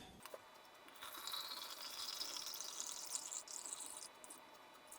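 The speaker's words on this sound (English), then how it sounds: "Oh, it is already draining," Faint, steady trickle of water draining through an Aeropress coffee maker during a cold brew experiment, a soft hissing drip that holds for several seconds.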